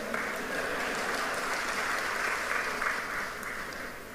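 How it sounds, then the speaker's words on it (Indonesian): Audience applause in a hall during a lecture at an anniversary gathering, a steady wash of clapping from a large crowd, even and sustained, fading slightly at the end. "Jangan ragu-ragu tepuk tangan."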